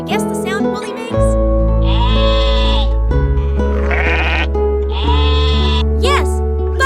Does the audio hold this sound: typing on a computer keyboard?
no